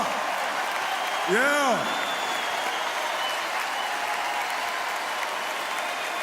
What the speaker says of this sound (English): I think that deserves a standing ovation